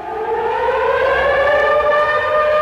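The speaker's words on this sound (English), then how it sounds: "Sirens started blaring around the city." A civil defense siren blares steadily and loudly, its rising tone sustained throughout with no voices.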